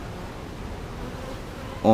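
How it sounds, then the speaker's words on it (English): Honeybees buzz at a hive entrance in a bee yard, a soft continuous hum close by with no talking. "There's some bees coming and going and everything"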